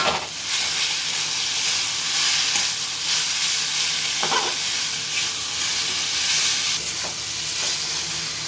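Vegetables with soy sauce stir-fried in a pan for a veg roll, a loud, steady sizzle running throughout with scraping and tossing of the spatula rising above it now and then.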